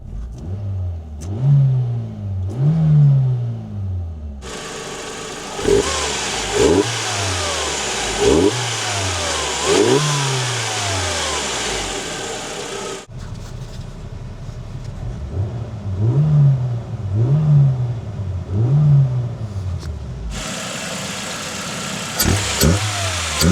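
A Nissan Primera P10 engine fitted with a new intake revs repeatedly, sharp rising and falling blips over idle, at times under a broadband hiss or wind noise, with no talking.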